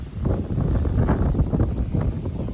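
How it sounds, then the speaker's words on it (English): A strong gust of wind buffets the microphone on a very windy day, a loud, rumbling, turbulent roar that holds steady for a couple of seconds with no voices. "It's a really windy day here."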